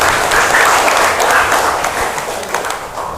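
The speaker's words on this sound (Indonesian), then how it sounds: "silakan diberikan tepuk tangan untuk temannya" Students in a classroom clap together in a steady burst of applause, fairly close and loud, fading slightly toward the end.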